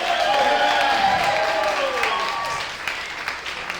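An audience at a stand-up comedy show in Wilmington, North Carolina applauds steadily, a dense wash of clapping with light cheering that slowly fades.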